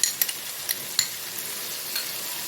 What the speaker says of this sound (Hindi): तो दही लिया हमने 50 ग्राम, इसको अच्छी तरह भून लिया।